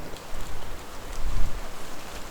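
Rain beginning to fall outdoors on a hike, a broad, steady patter and hiss with a brief low rumble midway, no voices.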